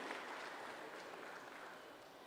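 Audience applause for a singer at the Appu Utsava 2025 stage event in Melbourne, a steady wash of clapping from a crowd, moderately faint and even throughout with no voices over it.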